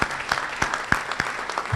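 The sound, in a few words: audience applause for Congressman Buchanan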